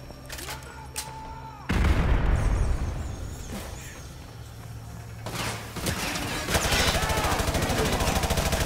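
Gunfire and explosions in Call of Duty: Modern Warfare 2 Remastered: a heavy blast hits suddenly and leaves a loud rumbling roar, then fast rapid-fire bursts rattle through the end.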